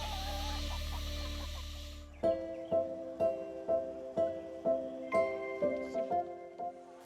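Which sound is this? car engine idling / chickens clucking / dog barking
chickens clucking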